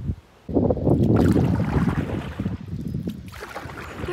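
A canoe is paddled across Swamp Lake into a headwind, with rushing wind buffeting the microphone and water splashing and churning close by, loud and continuous after a brief quiet start.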